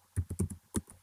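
Typing on a computer keyboard while saving a PowerPoint file: a short burst of about five close, crisp key taps in an uneven rhythm, heard alone and fairly quietly.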